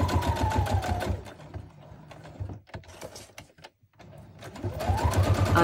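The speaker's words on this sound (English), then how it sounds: "So a bit of speed stitching." A domestic sewing machine speed-stitching a fabric Halloween tag, running in fast rattling bursts at the start and end with a quieter lull and near-silent pause between, close and clear.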